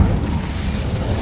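A fire spell cast in the Hogwarts Legacy video game bursts out as a loud, sustained rumbling whoosh of flame, heavy in the low end and holding steady throughout.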